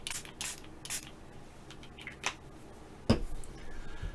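A handheld spray bottle of fruit enzyme spray is pumped in several short, sharp hissing bursts, spaced irregularly and heard up close against a quiet background.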